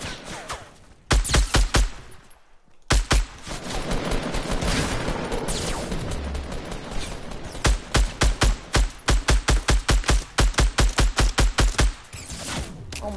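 Gunfire in Fortnite: loud, close rapid shots in quick bursts, pausing briefly, then a long stretch of evenly spaced single shots at a steady rhythm.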